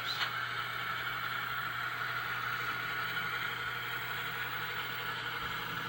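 Digitrax sound decoders in model train locomotive engines give a faint, steady mechanical drone, an idling hum that holds constant without change.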